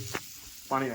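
Water poured into a hot pan of matar paneer, a short sharp sizzle that flares up in a burst near the end, with a brief voice just before.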